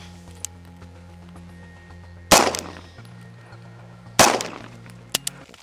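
Two loud, sharp handgun shots from a Beretta PX4 fired at a target 50 yards away, spaced about two seconds apart, each with a short ringing decay over a low steady hum, no talking.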